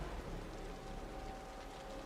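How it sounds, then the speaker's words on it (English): Steady rain falls throughout a scene in the video game Wuthering Waves, a soft, even hiss of moderate loudness with no voices over it. "The rain's getting heavier."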